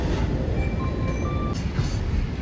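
A JR West 115 series suburban electric train runs on the Sanyo Main Line at Kita-Nagase Station, giving a steady, close rumble of wheels and motors with faint high whines over it.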